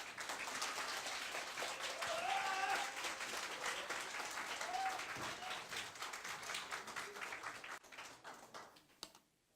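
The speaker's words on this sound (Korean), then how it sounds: "여러분의 뜨거운 박수와 함성으로 모실 텐데 준비되셨나요?" An audience at a business presentation breaks into sustained applause, dense and fairly close, thinning out and tapering to a few last claps near the end; any cheering is not distinct.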